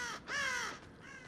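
Crows in the video game Dead by Daylight give two harsh caws, the second louder and drawn out, then a fainter third, alone against a quiet background.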